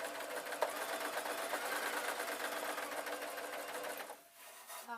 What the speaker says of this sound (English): this is just your basic sewing machine